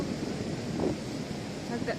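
Rough sea surf rolls onto San Lorenzo beach in Gijón, a soft, continuous wash of waves blended with wind noise, faint and distant.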